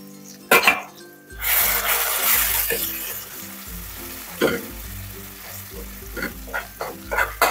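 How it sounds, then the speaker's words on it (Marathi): Food fries in a pan with turmeric and salt, giving a steady close sizzle with occasional stirring scrapes and clinks of a utensil against the pan. "आणि याला छान आपण फ्राय करून घेऊया."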